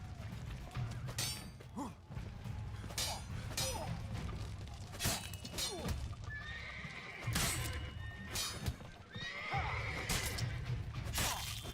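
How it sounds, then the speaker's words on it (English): Horses in The Witcher 3: Blood and Wine whinny loudly several times, with hoof clatter, thuds and crashing game noises in between. "I see horses."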